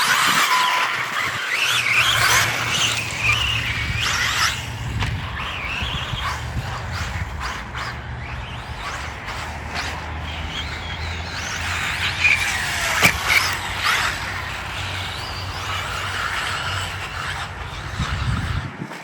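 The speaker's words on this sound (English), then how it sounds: "Corey, your throttle sounding good." Arrma Granite Grom Mega 380 brushed 4x4 1/18 scale RC monster truck driving, its small electric motor whining and revving through throttle bursts with tire scrabbling, steady for about twenty seconds at moderate distance.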